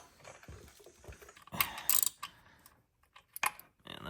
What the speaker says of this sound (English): So 3/16 hex head to get that bolt off.